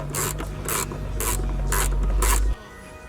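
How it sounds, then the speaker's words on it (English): A 12mm socket on a ratchet works loose the seat bolts of a Honda Civic EK Type R, giving five evenly spaced bursts of rasping clicks close by, with a low steady hum underneath that stops short near the end. "use this 12mm socket to remove these first 2 bolts on either side"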